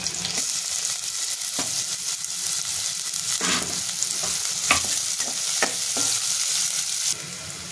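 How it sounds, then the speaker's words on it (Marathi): Garlic and then onion going into hot oil in a pan, a dense, loud sizzle with repeated scraping and clattering stirs from a ladle, close up and steady, no talking. "तेल गरम झालेले आहे, लसूण टाकून घेऊयात आपण आणि लगेच त्याच्यामध्ये कांदा"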